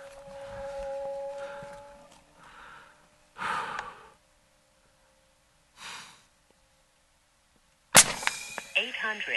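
A .50 caliber Umarex Hammer big-bore airgun fires one sharp, loud shot late in the clip, after quiet stretches with a few soft breaths and rustles.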